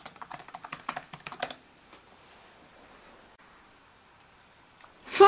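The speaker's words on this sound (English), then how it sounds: "let's type Tua Tagovailoa into Google." Typing a name into a search box on a computer keyboard: a quick run of close, crisp key clicks for about a second and a half, then near silence and a brief louder rustle at the end.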